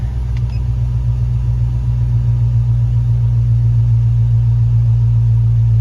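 A Grand Wagoneer with a swapped-in Hemi engine idles steadily, its deep, even rumble loud and close throughout with no talking.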